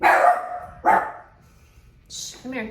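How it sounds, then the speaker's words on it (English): A dog barks twice in close succession near the microphone, loud and sharp, then a person speaks softly in the quiet that follows. "Sorry about my dog. I don't have time to stop."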